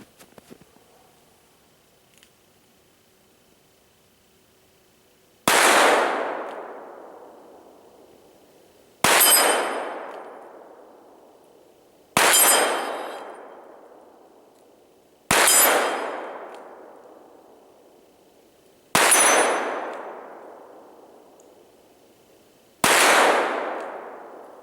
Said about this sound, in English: the first shot was no good on the 10-inch plate, but then I got 3 in a row.